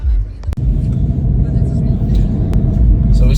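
Volkswagen Golf 7 GTI moving through traffic, a steady low engine and road rumble filling the cabin throughout, with a couple of brief sharp clicks.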